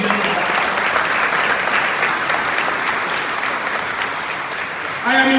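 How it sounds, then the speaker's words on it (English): Applause for council members at a mayoral inauguration in the Royal Borough of Greenwich, London: sustained clapping from a hall audience, fairly loud and even, ending as a voice begins speaking. "A big applause to our members"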